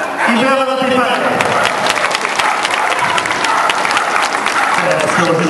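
Audience at a dog agility show at an international dog exhibition in Katowice bursts into loud, steady applause after a pair finishes their run, dense clapping filling the whole moment with a voice briefly audible at the start.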